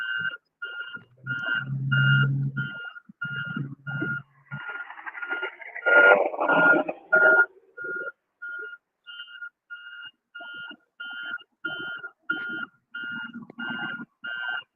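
A dump truck backing up sends out a long run of sharp, evenly spaced reversing beeps. At times louder rumbling and clatter from the work nearby mixes in, and the beeps carry on clearly between the bursts of noise.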